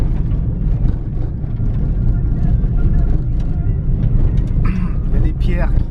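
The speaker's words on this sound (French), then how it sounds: "Pierres qui tapent partout dans la bagnole." Car jolting over a rough, potholed dirt road, stones knocking against the body, a continuous loud rumble and rattle of the cabin with sharper clatters near the end.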